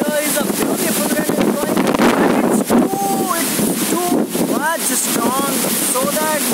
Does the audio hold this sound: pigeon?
no